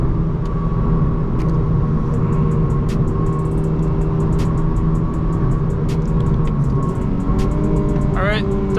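A 2008 Honda Civic Mugen Si holding third gear through a turn on new Michelin Pilot Sport tires, its engine a loud steady in-cabin drone under someone talking, with a brief rising whine near the end.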